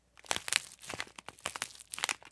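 Crunchy TABA squishy squeezed close up, a rapid run of crisp crinkling, crackling bursts, alone without talk.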